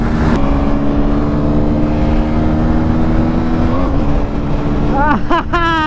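KTM Duke 160 and Bajaj Pulsar N160 motorcycles run hard side by side in a drag race, a loud, steady engine drone with harmonic whine throughout and rising rev sweeps near the end, with a voice talking over it.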